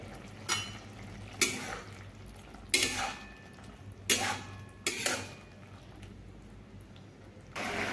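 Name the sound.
pan lid opened and ridge gourd stirred in frying pan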